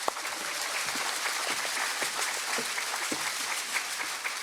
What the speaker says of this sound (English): One round of applause for our STEM Educator and Administrator.